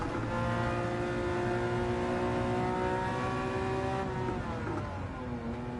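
A Porsche 901 Carrera RS engine howls steadily in a racing video game, a loud sustained rev with stacked harmonic tones that dip slightly as the pitch shifts near the end, with no talking over it.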